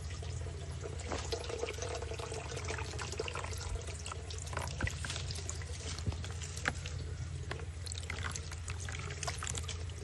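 Water poured steadily into a container while acclimating a red tail catfish before release into a pond, a continuous splashing trickle lasting throughout, fairly close and even, with no talk.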